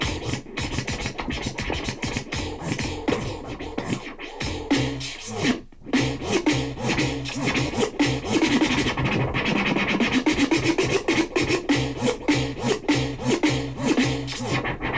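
A DJ performs a baby scratch on a turntable: rapid back-and-forth scratching cuts a sample in a steady rhythm, loud and continuous with a brief pause midway.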